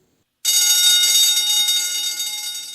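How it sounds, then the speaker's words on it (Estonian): Electric bells ring loudly throughout a fire station building, starting abruptly and holding a continuous shrill metallic clangor that fades slightly toward the end, close and with no voices. "kui äkki täitis tervet maja kellahelin"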